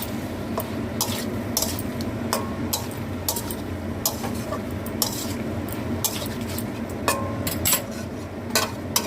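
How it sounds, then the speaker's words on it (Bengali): Clattering metal spoon scraping and tapping around a pan as curry is stirred with coriander leaves and garam masala, steady busy scraping throughout with a faint sizzle underneath and no talk. "ধনে পাতাটা দিয়ে নেড়ে চেড়ে নামাবো।"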